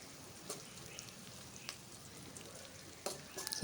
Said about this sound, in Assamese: এইখিনি কিছু সময় ভালদৰে ভাজি ল'ব লাগিব।